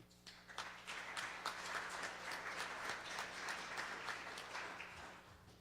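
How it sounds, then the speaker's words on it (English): Audience applause at a 2023 project showcase event honoring mentors, steady dense clapping from a sizeable crowd that swells after a quiet start and holds throughout. "I would like to give you an extra round of applause"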